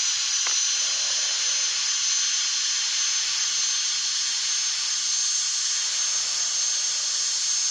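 A Boeing 747 jet in a flash pilot simulator game gives off a steady, even engine hiss that holds unchanged from start to finish.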